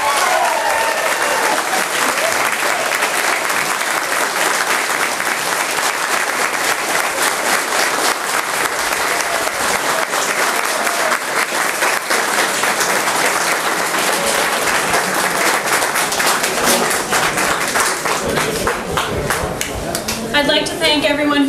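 Sustained applause from a crowd honoring New Brunswick leadership hopeful and Southwest Miramichi MLA Jake Stewart at a media scrum, dense and loud, rolling steadily for about twenty seconds before thinning slightly at the end.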